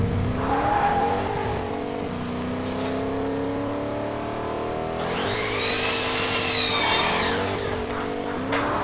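Truck engine driving off-road in a video game, a continuous revving drone with harmonics that climb and shift as it accelerates, loud and close throughout, with no talking.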